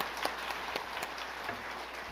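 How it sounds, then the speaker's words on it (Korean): Church congregation applauding after a choir's hymn, a steady patter of many hands clapping at moderate distance, fairly soft and even throughout. "우리 박수하십시다."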